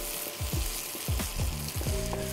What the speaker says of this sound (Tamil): ஸோ வெங்காயம் வந்து ஓரளவுக்கு வதங்கியாச்சு.